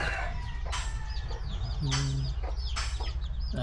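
Backyard chickens clucking and calling near the microphone, with several short bursts and a brief low crowing note in the middle, over steady farmyard background.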